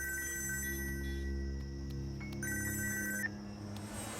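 A telephone rings with repeated electronic trills over a steady low hum, moderately quiet, with no one speaking.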